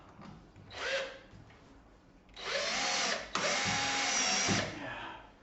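Power drill driving screws into a wooden box, two separate bursts: a short whine near the start, then a longer, louder run split by a brief pause, each with rising motor pitch and no talk.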